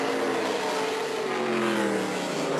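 NASCAR K&N Pro Series East stock cars racing on asphalt at Thompson Speedway, a loud, dense engine roar with layered revving that stays steady throughout, no talk audible.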